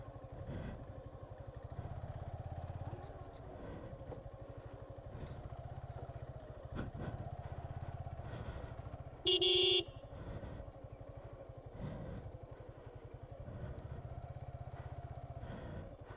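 A motorcycle rides along a railway track, its engine droning steadily at a distance with rhythmic clatter over the track and one brief horn toot near the middle, and no talking.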